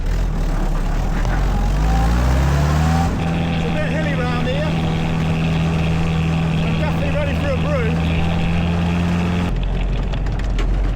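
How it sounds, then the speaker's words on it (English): A Jeep drives along with a steady, loud engine drone and road rumble that shifts in pitch as it moves, with a sharp change partway through and a quieter stretch at the end. "Should be able to drive the Jeep up."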